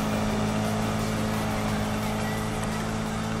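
A car's engine in Need for Speed 2015 roars steadily at high revs as it accelerates hard. The drone is continuous and close, with no talking.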